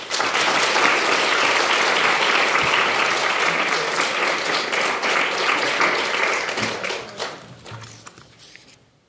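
Sustained audience applause fills a lecture hall as Judge Sang-Hyun Song is welcomed to speak on the International Criminal Court, with dense, loud clapping that thins out and fades near the end.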